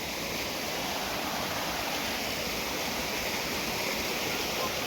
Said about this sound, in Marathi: काय वाजते रे बाळा काय वाजते रे पाणी किती मोठं पाणी रे